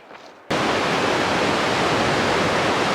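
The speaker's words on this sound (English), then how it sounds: "This is the Woods Creek water slide." Water rushes down the Woods Creek water slide on the Pacific Crest Trail, a loud steady roaring hiss that bursts in after a quiet half second and holds constant.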